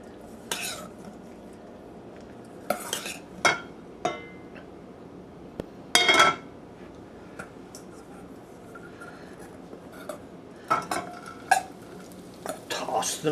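Sporadic clinks and scrapes of a utensil against a bowl while mixing and coating pieces of food, short irregular strokes spread over quiet gaps, close and fairly soft.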